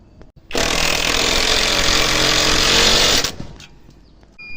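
Power drill driving bolts while a satellite dish is mounted: a loud, high whirring burst lasting about three seconds that starts and stops abruptly, followed by faint handling noise.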